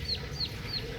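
Newly hatched Bangkok chicken chicks, hatched the night before, give three short, high peeps at an even pace over a low, steady background hum.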